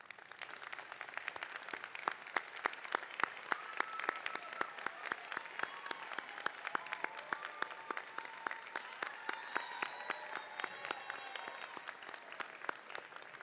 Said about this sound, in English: join me in a round of applause for your families and friends that are here to celebrate you this morning